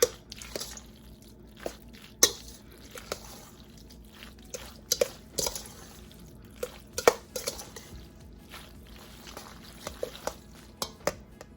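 Macaroni and cheese being stirred with onion powder in a bowl, heard as irregular wet squishes and clinks of a utensil against the bowl over a quiet background, with no talking.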